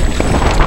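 Strong wind buffets the microphone during sea kayaking off Erraid. It is a loud, continuous low rumble for under a second, with no voices.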